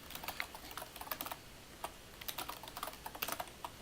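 Fast, uneven typing on a computer keyboard while a password is entered, a close run of light clicky keystrokes with brief pauses and no talking.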